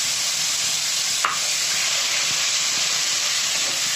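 Beef tongue sizzles in a hot pan with chili powder, turmeric and cumin, a loud, steady frying hiss with a brief scrape of the spoon early on as it is stirred.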